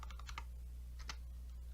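Quiet typing on a computer keyboard: a few soft, quick key clicks come in two small clusters over a low steady room hum.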